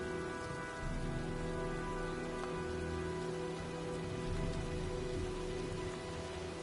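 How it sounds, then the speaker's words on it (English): Steady rain pattering on surfaces during a storm in the video game Heavy Rain, a soft continuous hiss with low hum underneath and no speech. "Well, looks like a storm's coming."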